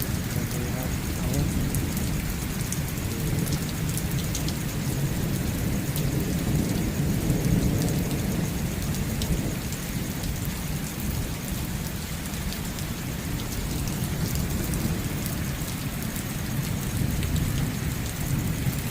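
A nighttime cloudburst in Pothwar pours dense, heavy rain in a constant hissing roar, with rumbling thunder blended underneath, loud and unbroken throughout.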